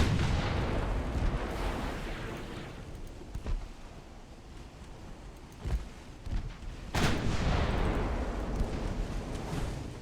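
Naval guns fire in the UAD warship video game, a few heavy booming salvos with long rumbling tails rolling over a continuous low roar of battle.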